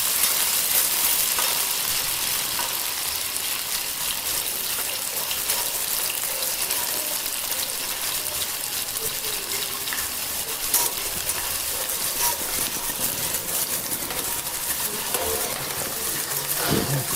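Ingredients for dal fry, including chopped onion and green chili, sizzle in a pan over a low flame, a continuous dense crackling hiss with occasional stirring scrapes, steady and close for the whole stretch, with no voices.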